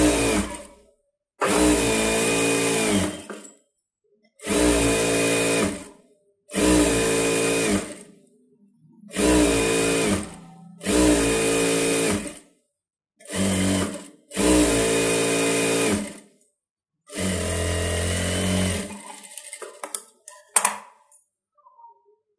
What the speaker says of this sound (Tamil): போட்டுட்டு சுற்றி இந்த லைனிங்கில் தையல் போடுவோம்ல அது மாதிரி போட்டுக்கோங்க